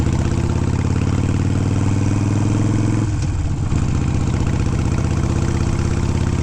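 A Harley Sportster 883 fitted with a Hammer 1275 big-bore kit running on a night ride, a steady loud mid-to-low engine drone with a short dip in the middle before the rumble resumes, no talking.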